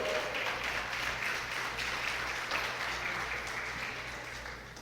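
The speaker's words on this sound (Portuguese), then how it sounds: "Pode aplaudir Jesus, não é proibido não" Applause from a church congregation fills the space as a quiet, steady, distant patter of many hands, with a low constant hum underneath and no talking.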